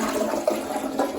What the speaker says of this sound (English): Oh yeah, flushing that down.